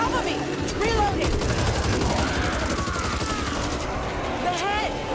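Rapid gunfire in the zombie shooter Back 4 Blood, steady loud bursts of automatic shots with sharp ricochets, under shouting voices.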